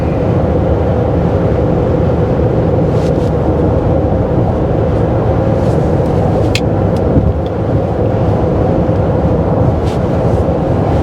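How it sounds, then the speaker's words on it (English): Heard from inside a car, a truck drives close alongside, a loud, steady low road rumble and engine drone that persists throughout with no speech. "Truck beside me putting a squeeze on me."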